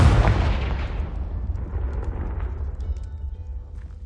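A Confringo fire-blast spell erupts in Hogwarts Legacy as one loud, close booming blast that rolls off into a long rumbling fade over several seconds.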